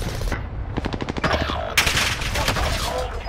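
Rapid automatic gunfire in a shooter video game, a burst of quick cracks followed by a heavier blast and continued shooting, loud and close, with brief talk from players.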